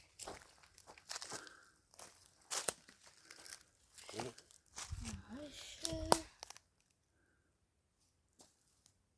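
Dry leaves crunch and crackle in uneven bursts, like footsteps or hands pushing through them, with a voice briefly in the mix, then near silence.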